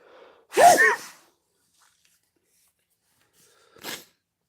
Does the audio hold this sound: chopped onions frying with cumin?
no